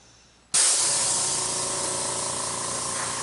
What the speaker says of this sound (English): I'm going to use my little airbrush. Let me turn it on.